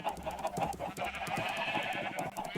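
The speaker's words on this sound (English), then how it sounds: "And you can hear sheep," Minecraft farm animals, chickens and sheep, cluck and bleat quietly in the video game. Several short calls come at an uneven rhythm over a faint background.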